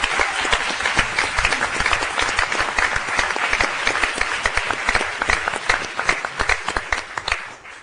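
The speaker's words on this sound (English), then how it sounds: "I think that might deserve a little round of applause separately." Sustained, dense applause fills a city council meeting room, a steady wash of many hands clapping at close range that holds for several seconds, then fades out at the end.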